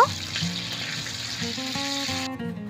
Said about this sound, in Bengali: এবার নেড়ে নিয়ে টমেটো খুব ভালো করে ভেজে নেব।